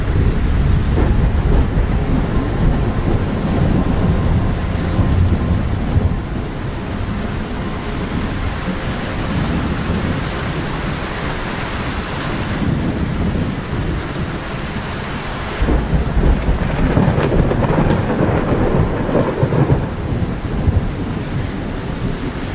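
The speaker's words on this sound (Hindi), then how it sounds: "लगता है बहुत तेज बारिश होने वाली है" A thunderstorm with heavy rain in a forest setting: a steady, dense roar of downpour fills the whole stretch, with low rumbling thunder swelling and surging around the middle and again near the end, loud and close, with no talking.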